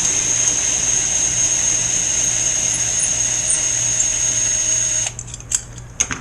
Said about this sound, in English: when I'm drilling the holes